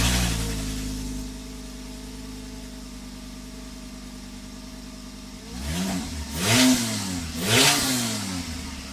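A five-cylinder engine in a Mk2 VW GTI with a full exhaust idles with a low burble, then revs sharply twice through the exhaust, each rev rising and falling quickly.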